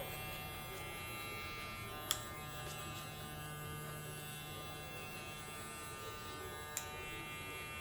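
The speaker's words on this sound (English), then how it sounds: "It's a quiet clipper. It has good power." A quiet electric hair clipper with an adjustable, zero-capable surgical or fading blade runs in a barbershop, giving a steady, faint buzzing hum broken by two brief clicks.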